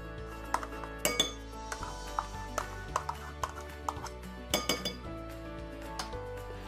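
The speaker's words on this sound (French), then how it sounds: "Je mélange le tout." Cassava flour cake batter being mixed in a bowl, with repeated clinks and scrapes of a utensil against the dish, moderately close and steady, no talking.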